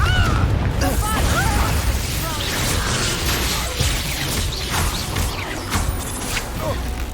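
A Confringo fire-blast spell goes off during Hogwarts Legacy combat, a loud, sustained burst of crackling and booming that runs the whole stretch amid other game effects and voices.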